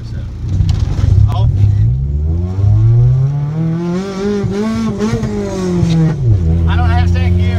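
Honda Civic engine revving hard and climbing in pitch without second gear, loud and close, dropping off briefly before revving again.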